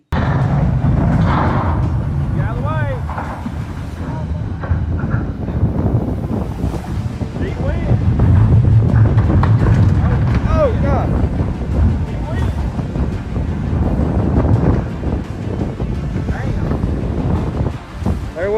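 Heavy sea waves pound a coastline in loud, continuous rolling surges with strong wind noise buffeting the microphone; an excited voice calls out briefly over the roar.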